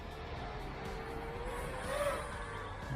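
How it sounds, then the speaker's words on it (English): A car passes nearby on a road, its engine hum rising to a peak at about two seconds and then easing off, moderately loud against faint outdoor background noise. "Just see where that car is I just heard."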